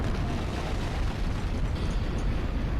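A sustained, roaring blast of an explosion in the video game Danganronpa fills the clip, dense and loud throughout with no clear start or end.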